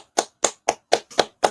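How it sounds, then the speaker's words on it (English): Six crisp, evenly spaced claps ring out in a steady beat at a religious class in Harlem, New York, each sharp and close with clean silence between. "Let's clap it up."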